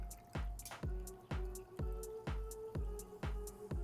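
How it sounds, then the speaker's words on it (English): Bitters and tonic water are poured into a martini glass, giving a steady run of about eight close, evenly spaced liquid drips and splashes with no voices. "And we're also gonna add in a couple of dashes of bitters and some tonic water to float."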